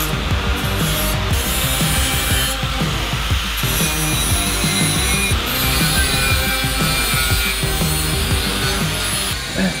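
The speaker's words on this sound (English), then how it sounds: "while Nathan's cutting that up" A power saw cuts through a part during a fly-by-wire throttle pedal install on a turbocharged Ford Cortina build, a loud steady rasping grind that runs throughout with brief pauses and metallic rattles.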